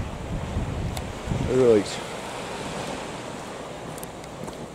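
Cold wind blows steadily across a beach as waves wash in nearby, a constant rushing roar with a brief swell of surf; a voice speaks one short word over it.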